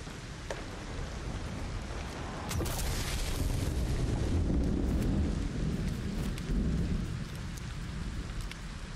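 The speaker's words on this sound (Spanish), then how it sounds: "Hasta que no deje de llover no podemos hacer nada." Steady rain pours during a thunderstorm in the video game LEGO Fortnite, a dense hiss with low thunder rumbling and swelling in the middle and brief sharp crackles breaking through.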